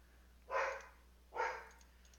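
A single dog gives two sharp, loud barks about a second apart against a quiet background.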